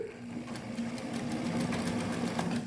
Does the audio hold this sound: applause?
no